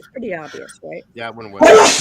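A person sneezes once, loud and close, right at the end of a stretch of conversational talk.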